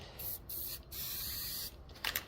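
Rust-Oleum spray paint hisses from a can in several short bursts with brief gaps between them, close and fairly quiet.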